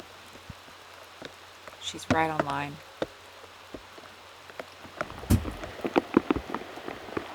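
Rain patters steadily across a disc golf course during a women's tournament round, a soft hiss with scattered drops, while a commentator talks over it and a louder clatter comes near the end.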